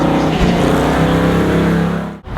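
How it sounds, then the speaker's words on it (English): An Ultra4 off-road race truck with a Rover V8 engine runs nearby, a loud throbbing engine roar with steady low harmonics that dips sharply at the end. "that's running a Rover V8 engine."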